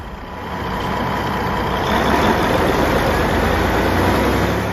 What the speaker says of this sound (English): The Caterpillar C32 engine stands as a formidable power solution for demanding